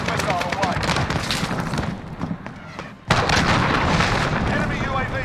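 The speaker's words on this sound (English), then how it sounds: "cruise missile away" A cruise missile strike in the video game Call of Duty: Modern Warfare during a Ground War match, heard as a continuous roar of rumbling blasts and gunfire that dips briefly, then surges back loud with a sharp impact.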